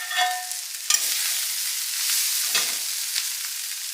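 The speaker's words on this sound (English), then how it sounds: "Give that a stir." Cooked sausage is stirred into hot soup broth in a pot for Zuppa Toscana, giving a soft steady hiss with a couple of brief clinks from the spoon against the pot.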